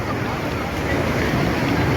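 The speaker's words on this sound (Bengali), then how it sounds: "দেখুন আরো ঢেউ।" Sea surf rolls and breaks on Puri beach during rain, a dense continuous wash of crashing water with wind rumble, loud and close throughout.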